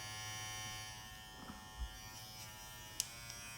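Faint, steady motor buzz of a VGR hair clipper running at one speed setting, a constant electric whine with a couple of small clicks.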